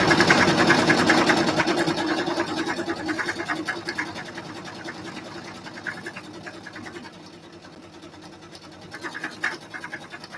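A sewing machine stitches thin fabric with a fast, steady mechanical chatter up close, fading somewhat over the span and picking up again near the end.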